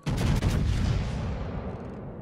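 A broadside from HMS Nelson battleships in World of Warships: heavy naval guns go off together in a loud, booming salvo, followed by a long rumbling roll that fades slowly.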